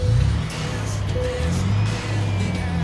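Truck engine in American Truck Simulator, a low steady rumble heard from outside the cab at a Tulsa yard, moderately loud and continuous.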